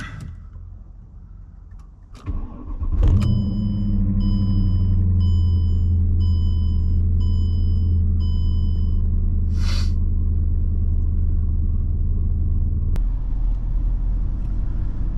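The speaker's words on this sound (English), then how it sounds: "so let's go ahead, fire it up." A cold Mercedes CLK550 with an M273 V8 cranks and catches with a roar at about three seconds, then settles into a loud, steady, deep idle with a rumbling low end.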